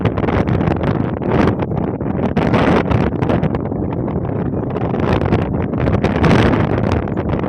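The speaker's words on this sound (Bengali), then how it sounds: "প্রচণ্ড হাওয়া" Strong wind in Rajasthan buffets the microphone with loud, continuous roaring gusts that rise and fall throughout, with no voices heard.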